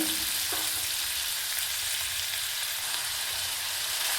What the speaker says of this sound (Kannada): ಅದೆರಡು ಚಟ್ಪಟ ಆದ ನಂತರ ಸಣ್ಣದಾಗಿ ಕಟ್ ಮಾಡ್ಕೊಂಡು ಇಟ್ಕೊಂಡಿರ್ತಕ್ಕಂಥ ಒಂದು ಈರುಳ್ಳಿನ ಸೇರಿಸೋಣ